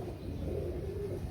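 A pigeon gives a soft, low, drawn-out coo, close by and fairly quiet.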